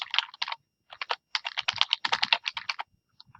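Rapid clicking of computer keyboard keys while an email address is entered, in irregular bursts of keystrokes with brief pauses between them, close and fairly clear.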